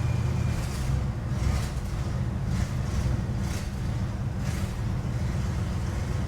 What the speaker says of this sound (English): And she started up.